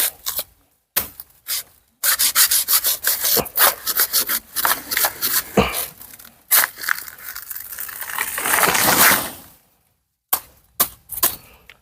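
Saw cutting through a banana tree trunk near its base: loud, close rasping strokes in quick bursts separated by short pauses, with a longer sustained stretch of sawing before it stops.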